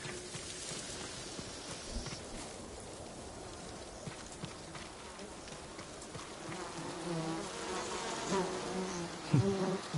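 Honeybees from the video game Ghost of Tsushima buzz steadily around the hives, a dense droning swarm that holds throughout and grows slightly louder near the end, with a few sharp knocks.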